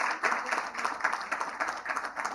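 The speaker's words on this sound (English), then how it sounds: "please do join me in giving them a big, big round of applause" A conference audience applauds, dense steady clapping from many hands filling the hall for the whole stretch, with no voices over it.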